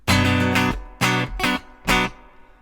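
Four loud, close acoustic guitar strums in a down-up-down-up rhythm ring out on an open chord, each cut off briefly before the next.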